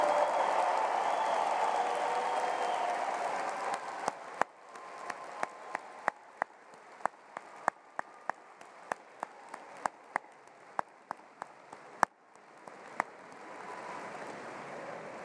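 An audience at a 2022 undergraduate commencement ceremony applauds the graduating Bachelor of Arts class, with dense, sustained clapping at first that thins into scattered sharp individual claps before a softer swell of crowd noise returns.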